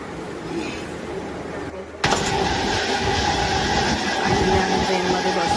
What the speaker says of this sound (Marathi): ट्रेन आली आमची.